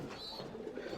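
Tumbler pigeons cooing inside a loft, a single soft, brief coo heard faintly at a distance.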